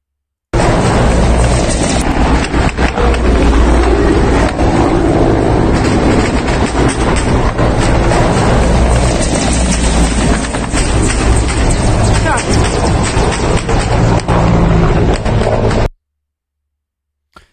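Military helicopters drone steadily in a combat zone during the Ukraine invasion, a loud continuous rotor roar filling the whole stretch, with small arms fire faintly buried underneath before it cuts off abruptly.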